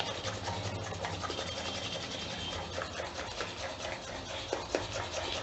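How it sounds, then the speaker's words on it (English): Curd being whisked vigorously in a bowl for dahi vada, a steady close scraping and rubbing texture that continues without a break, fairly quiet. "Whisk it rigorously"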